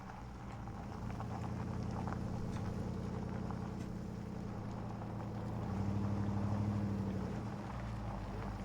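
Low rumbling engine of a truck in the Life is Strange 2 video game, a steady drone that grows louder as it approaches, with no talk.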